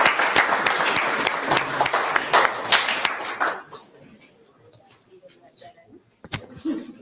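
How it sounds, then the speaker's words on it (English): Medical students at a training day clapping for a speaker, a steady burst of hand claps for about three and a half seconds that trails off into a few isolated claps and faint voices. "I would have wished that we give a hand clap."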